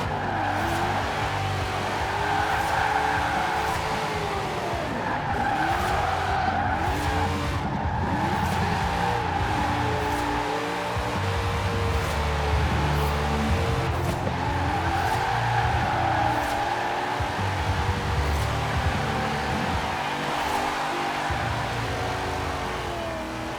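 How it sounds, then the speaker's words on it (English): Cleetus McFarland's 'Donnie' Corvette Z06 drift build drifting through tight festival roads in Forza Horizon 4, its engine droning and revving while tires squeal continuously and loudly throughout, with wavering pitch as the car slides. "What I'm going to try is use the tight roads around here and get this thing drifting"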